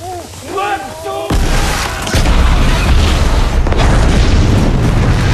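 A loud explosion from a human bomb in the war film Overlord, a sudden booming blast that fills the rest of the clip with dense, sustained rumble and debris after a quieter opening.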